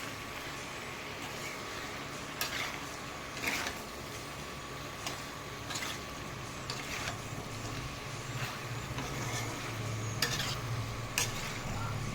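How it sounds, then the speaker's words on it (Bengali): Chicken stew with vegetables and chopped coriander is stirred in a pot, with a faint, steady sizzle and scattered clinks and scrapes of a spoon against the metal. "আমার হালকা করে নাড়াছাড়া হয়ে গেছে"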